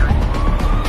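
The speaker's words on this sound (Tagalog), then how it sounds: "Paparating na yung ambulansya para dalhin kayo sa COVID facility." An ambulance siren sounds as the vehicle approaches, a loud steady wail over a dense, rumbling background.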